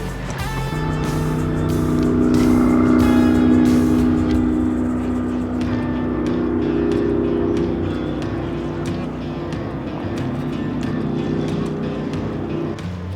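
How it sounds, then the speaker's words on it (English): Jet skis roar and drone steadily out on the water, loud and sustained, with the engine pitch shifting slightly as they pass. "Jet skis, that looks fun."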